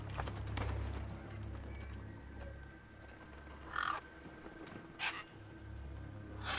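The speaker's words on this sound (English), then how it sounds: "There's an ugly, ugly bird." A bird caws in the video game Beyond a Steel Sky, two short harsh calls standing out over a low steady ambient hum, with faint clopping hints early on.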